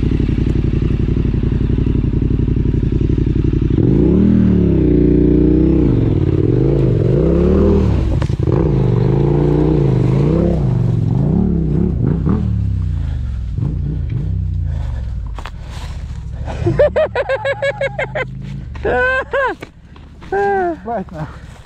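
Motorbike ridden along a trail at the back of a property, its engine droning steadily up close, then revving and sputtering with clattering near the end while people talk and shout over it.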